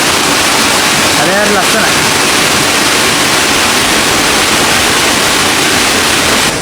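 Thotas Ella waterfall gives a loud, unbroken roar of rushing water from close by. A brief spoken remark sits on top of it early on.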